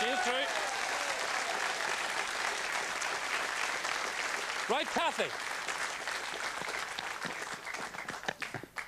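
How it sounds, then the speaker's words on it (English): A studio audience on a UTV game show gives a contestant a round of applause: a dense, steady wash of clapping that fills the whole stretch while a host talks over it. "Give her a round of applause"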